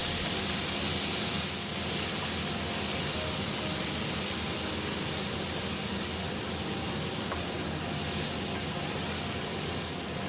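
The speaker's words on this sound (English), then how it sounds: "Final drizzle of our Shaoxing wine." Shaoxing wine is drizzled into a hot wok during a stir-fry of Chinese sausage and basil, setting off a loud, steady hiss of sizzling that holds evenly throughout with no talk.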